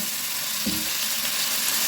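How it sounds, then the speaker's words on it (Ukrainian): Steady, loud sizzling of cabbage frying on high heat, a continuous crackling hiss with a brief stir-like clatter partway through. "смажу капусту на великому вогні, тому що мені треба смажену капусту"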